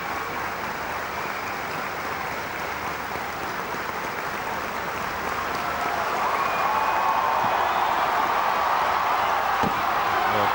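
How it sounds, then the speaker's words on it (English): Stadium crowd at the 1994 Athletics World Cup Final at Crystal Palace applauding a long jumper, a steady wash of clapping and cheering that swells slightly toward the end and continues unbroken throughout. "tremendous support here for Fred Saal"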